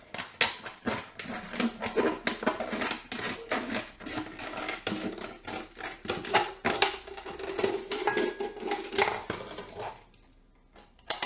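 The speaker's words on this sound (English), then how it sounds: "it involves scissors and cutting plastic" Scissors snip and rasp around a plastic bottle in a steady run of short, irregular cutting crunches, fairly close and loud, trailing off near the end.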